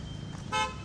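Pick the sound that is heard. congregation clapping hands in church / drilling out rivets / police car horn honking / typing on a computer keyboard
police car horn honking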